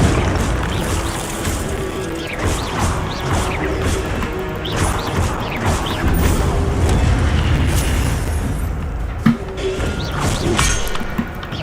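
A Hogwarts Legacy combat scene in which an Incendio fire spell is cast, with sustained crashing, booming impacts and whooshing bursts that fill the scene loudly throughout with hardly any pause.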